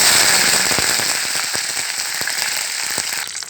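Curry leaves dropped into hot tempering oil already holding cumin, chana dal and dried red chillies, giving a steady dense sizzle with scattered sharp crackles and pops, close and loud, with no talking.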